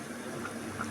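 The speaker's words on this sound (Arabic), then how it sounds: "حطيت على كل كوبايه رز حطيت كوبايه ونص ميه" Water, not cold, is poured steadily into a pot of uncooked basmati rice, making a continuous close splashing and filling rush with no pauses.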